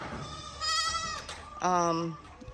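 Goats and sheep bleating on a small farm in Ghana, with two loud, drawn-out wavering bleats close by, one after the other, over background noise and talk.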